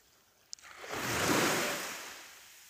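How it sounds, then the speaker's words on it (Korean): Surf breaking on a sandy shore of Udo island, Jeju, one long wave rushing in and slowly receding, close and steady with a brief click near the start and no talk. "파도 소리가 좋지 않습니까?"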